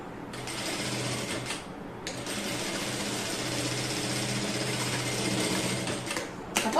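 A sewing machine runs in two long bursts of fast, even mechanical whirring, stitching a cross piece onto an unlined neckline, close and clear, with a short pause in between and a brief clatter at the end.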